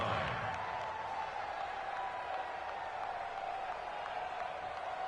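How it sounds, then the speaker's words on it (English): Stadium crowd noise in the Madden NFL 20 football video game, a broad continuous roar of cheering fans building ahead of a big third down, steady and fairly distant with no clear talk. "The crowd getting into it as we come up on a big 3rd down"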